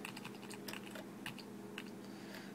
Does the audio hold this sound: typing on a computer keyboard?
yes